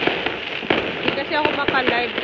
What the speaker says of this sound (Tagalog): Kahit saan ako niligo, nandun may paputok.